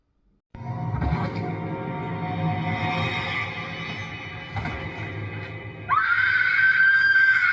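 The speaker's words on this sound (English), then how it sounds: "there we get Anne doing her scream queen bit, and she screams" Anne, the heroine of Peter Jackson's King Kong, lets out long, loud sustained screams over a rumbling dramatic film soundtrack, rising to a sharper, higher-pitched shriek near the end.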